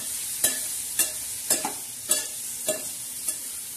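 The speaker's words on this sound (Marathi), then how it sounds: "आता छान असं आपण चांगलं असं परतून घेणार आहे" Masala of chili powder, turmeric and salt sautéed in a pan for a green cluster bean dish, with six evenly spaced spatula scrapes over a steady, faint sizzle; no voices.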